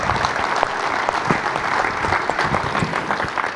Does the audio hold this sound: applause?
yes